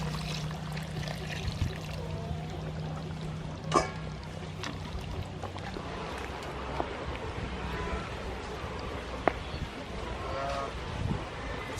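Coconut milk poured into a pot of chicken curry with roasted peanuts, a soft continuous liquid trickle close by over low cooking background noise, broken by a few light clinks of utensils.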